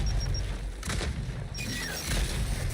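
A frag grenade going off in a video game, heavy booms and bursts of gunfire-like crackle in a loud, close combat mix with no talking.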